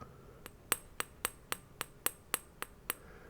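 Glass Christmas ornament tapped in the middle, ten sharp, bright clicks at an even, unhurried pace, close and quiet against a hushed background.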